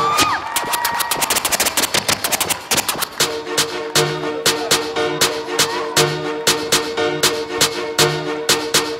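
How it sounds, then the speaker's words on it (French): A comedy-show audience at a New Year laughter event claps and cheers for a performer, with dense crowd applause for the first few seconds settling into steady rhythmic clapping over a music backing. "je vais vous demander d'applaudir le doyen des doyens"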